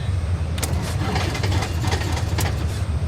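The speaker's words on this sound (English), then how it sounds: "Let's get this engine going again." A simulated Cessna piston engine cranking and catching in FSX with the A2A add-on, a close, loud, rough churning rumble with sputtering bursts, continuous throughout.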